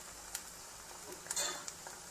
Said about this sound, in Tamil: கொஞ்சம் வெந்த பிறகு கரண்டியால் மெதுவாக பிரட்டி பிரட்டி விடலாம்